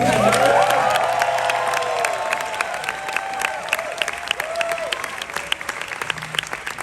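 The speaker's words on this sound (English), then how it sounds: "How about a hand for Kevin?" An audience at a Broadway album release party performance breaks into loud applause with some cheering, the clapping gradually thinning out over several seconds.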